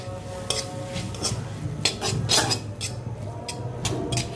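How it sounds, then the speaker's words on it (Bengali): Noodles being stirred and fried with egg in a pan, with repeated scraping and clinking of a utensil against the pan over a steady low sizzle, close and moderately loud, with no talking. "নুডলসটাকে ভেজে নিব। নুডলসটাকে নেড়ে ছেড়ে বারবার নেড়ে ছেড়ে"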